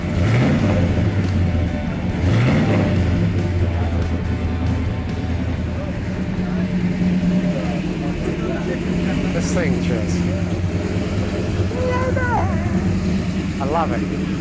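A 1967 Hemi GTX convertible's V8 engine runs and revs with a deep, throaty rumble that rises and falls close by, while people talk over it throughout.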